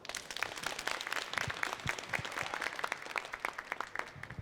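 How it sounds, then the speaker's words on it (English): Audience members at a science and academic luncheon clap for a speaker, a moderately sized crowd giving steady, distinct handclaps across the whole stretch, heard at a moderate distance with no talk. "Give him a warm applause, please."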